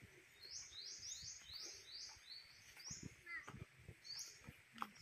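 Several small birds chirp and tweet in quick repeated bursts in a forest in Isabela City, faint and distant, with soft rustling and light movement nearby.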